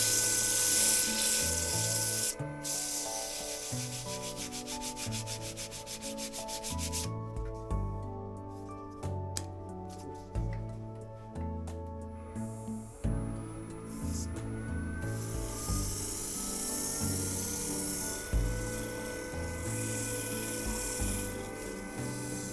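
Wood turning on a lathe, sanded with 120-grit abrasive while shaping an herb stripper, gives a continuous rasping rub that runs throughout under steady background music.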